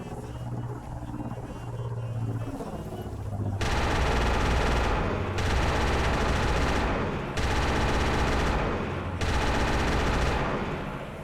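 Heavy repeater gun in a Mandalorian video game firing in long sustained bursts, loud and close, with short pauses between roughly two-second volleys after a quieter rumbling lead-in.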